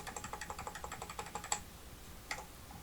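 Computer keyboard arrow keys pressed in a quick, steady run of soft clicks while editing an illustration, then a slightly louder key press and one more after a pause, close and quiet with no talking.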